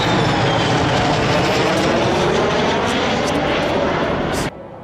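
Israeli F-15I Ra'am fighter jets fly overhead with a loud, dense, sustained roar that holds steady and then cuts off abruptly near the end.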